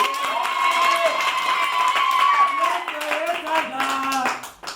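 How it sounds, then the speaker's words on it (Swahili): A church congregation claps for the Lord, steady rhythmic handclaps from many people over singing and a lively crowd, loud and continuous throughout. "Pigia Bwana makofi."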